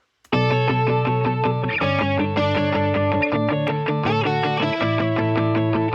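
A distorted punk rock electric guitar loop, sped up to 160 BPM, plays loud and dense with driving chugging chords and no voices over it.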